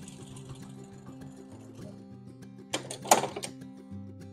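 A sewing machine fitted with a walking foot quilts across a seam, its motor humming steadily with shifting tones, then a louder clattering burst near the end; no voices.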